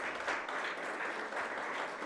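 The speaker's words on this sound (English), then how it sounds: "A round of applause for Mr." An audience at an automotive after-sales service panel discussion gives a round of applause, even and sustained clapping from a crowd heard at moderate distance for about two seconds.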